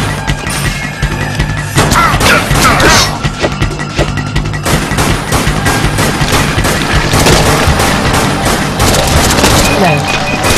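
In the video game Dead Nation, a grenade explosion and sustained gunfire produce dense, loud booms and rapid crackling shots that continue almost without pause.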